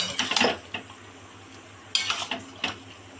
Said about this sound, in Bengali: এবার নারকোল কোড়া দিয়ে মা আবার নাড়িয়ে দিচ্ছে